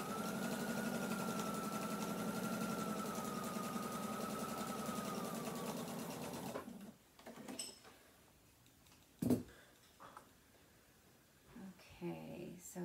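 Sewing machine stitching a seam along the side, corner and bottom of a pants front pocket, a steady continuous hum for about six seconds, followed by quiet handling sounds and clicks.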